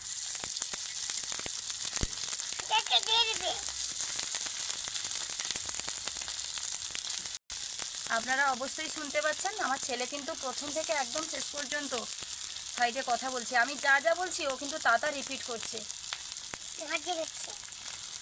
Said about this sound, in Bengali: তারপর আঁশটা কমিয়ে হালকা আঁচে এগুলো ভাজতে হবে